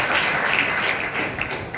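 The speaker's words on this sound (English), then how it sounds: "Give a big round of applause" A church congregation applauding, brief dense clapping from many hands heard at close range and fading slightly toward the end.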